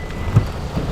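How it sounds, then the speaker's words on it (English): Heavy rain pours during a thunderstorm with lightning while someone is bank catfishing. It makes a dense, constant wash of noise broken by one brief low thump, and no one talks. "It's raining like crazy"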